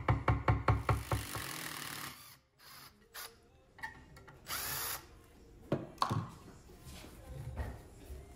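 Power drill backing screws out of teak furniture during refinishing, several short bursts of whirring close by at the start, then quieter scattered handling noises and a longer drill run mid-clip.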